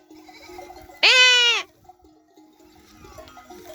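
A single loud, quavering bleat from a black sheep lasting about half a second, close by, with quiet background before and after.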